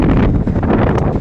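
Steady roaring wind buffets the microphone throughout, a loud continuous rush with gusty fluctuations and no voices.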